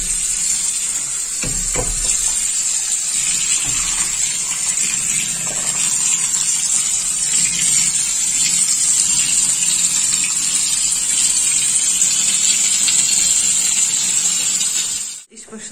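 Tap water gushes steadily for soaking food in a home kitchen, a continuous loud rush that cuts off abruptly at the end, with a voice occasionally in the background.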